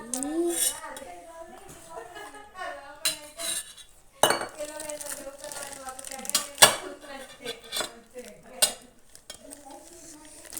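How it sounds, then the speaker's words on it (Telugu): A spoon clinks and scrapes against a bowl as a mixture is stirred, in short irregular bursts, with people talking throughout. "ఇది మిక్స్ చేయాలి. మిక్స్ చేసి కరెక్ట్గా పోయాలి."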